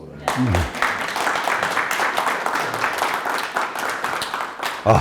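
An audience at a literary evening breaks into encouraging applause, a burst of clapping that starts abruptly, continues for several seconds with slight swells, and ends with a louder thump.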